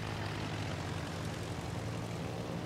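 Aircraft engines droning overhead in a World of Warships naval battle, a steady, loud, broadband roar that holds level without pause.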